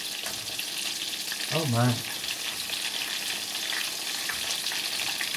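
Pollock fillets coated in almond flour fry in a pan with a steady, close, hissing sizzle throughout, broken briefly by a short spoken exclamation.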